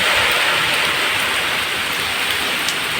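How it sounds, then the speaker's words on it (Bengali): Heavy rain from a monsoon storm, a dense continuous hiss of downpour drumming on surfaces close by, steady and loud with no voices. "ঝড় বৃষ্টি কেমন শুরু হয়ে গেছে দেখো।"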